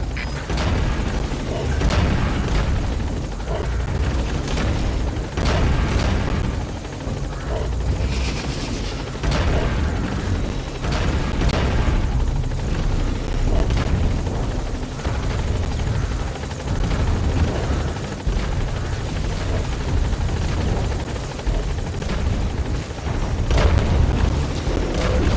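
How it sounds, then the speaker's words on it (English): A helicopter in Metal Gear Solid V: The Phantom Pain roars continuously and loudly with rotor thump, joined by scattered bursts of gunfire across the whole stretch, with no talk. "The chopper can't get close."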